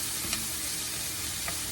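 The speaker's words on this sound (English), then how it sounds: "And we're going to fry it up here." Frozen garden okra fries in a pan with a steady, dense sizzle and faint stirring clicks, close and continuous throughout.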